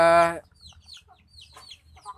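Free-range village chickens on a native-chicken farm, with one loud, close hen call at the start followed by scattered softer clucks and chirps over a low background hum.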